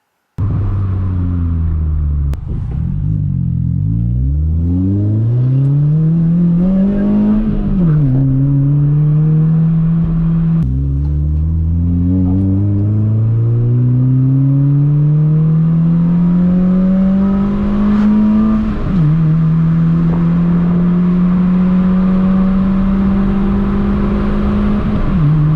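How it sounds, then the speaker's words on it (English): A Honda Fit with its clutch delay valve removed revs up and shifts repeatedly on a test drive, its engine climbing in pitch, dropping at each gear change, then holding a steady drone with continuous road rumble, heard from inside the car. "I'm back from my quick little test drive."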